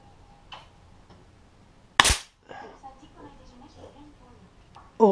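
A Beeman P17 air pistol fires a Gamo Match pellet, one sharp loud crack near the middle standing out against a quiet room, with faint handling clicks around it and brief murmured speech.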